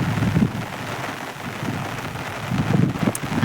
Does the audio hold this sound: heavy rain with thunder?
yes